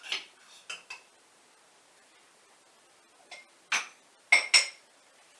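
Metal measuring spoons clink sharply a handful of times while arrowroot powder is added in a kitchen, in brief, quiet, scattered taps with silence between them.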